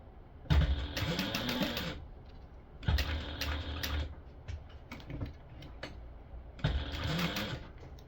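Sewing machine stitching a seam on a stadium bag, three close bursts of rapid mechanical whirring and needle chatter separated by short pauses with small handling clicks.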